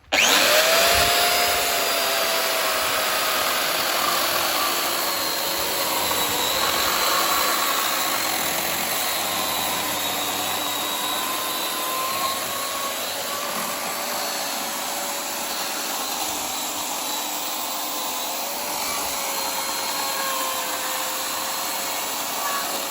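A Dolmar ES-140 electric chainsaw cuts walnut wood with a loud, steady high-pitched whine and motor drone. The pitch wavers slightly as it moves through the wood, and it runs continuously and close by without speech.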